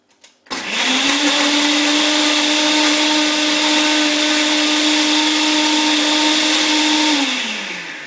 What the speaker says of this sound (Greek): Το βάζουμε στη θέση του το blender, το κλείνουμε και ανακατεύουμε.